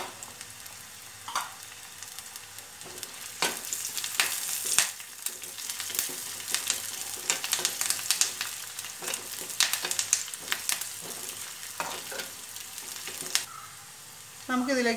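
Dried red chillies and curry leaves frying in hot oil for a green mango curry, an ongoing sizzle punctuated by sharp crackles and spatula knocks, with a voice talking over parts of it.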